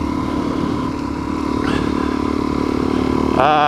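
A motorcycle fitted with an FMF Power Core 4 exhaust and Power Bomb header runs loud and close on a mountain pass road, a steady rumbling drone that surges sharply at the end.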